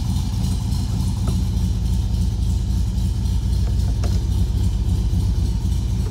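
A restored 1964 Volkswagen Beetle engine, converted to 12 volt, idles steadily with a low, even rumble close by, a few faint clicks over the running motor and no voices.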